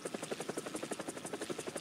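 Engine and rotor of an AH-1G helicopter in War Thunder, a steady rhythmic whop-whop of blades over a constant turbine whine, moderately quiet and unbroken, with no voices.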